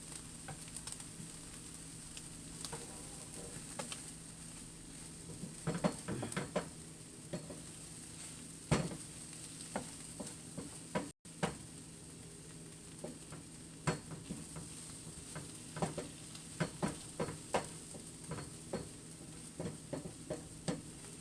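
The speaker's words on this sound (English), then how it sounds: "So let's throw in a handful of cheddar cheese and melt it" Handful of cheddar cheese melting in a hot pan, a constant soft sizzle with scattered stirring scrapes and light clinks of a utensil against the pan, no talking.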